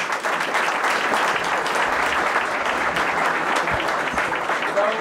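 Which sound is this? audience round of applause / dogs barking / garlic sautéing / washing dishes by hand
audience round of applause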